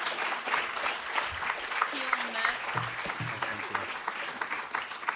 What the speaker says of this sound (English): Another round of applause for Deborah